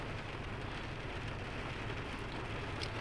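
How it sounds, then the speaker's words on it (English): Heavy rain pouring in Connecticut, a dense, constant hiss filling the scene at moderate loudness without breaks, with no voices. "it's raining like crazy over here"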